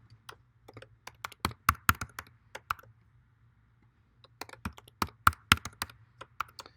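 Password being typed on a computer keyboard: two quick bursts of crisp key clicks with a brief pause between them, close and fairly quiet over a faint low hum.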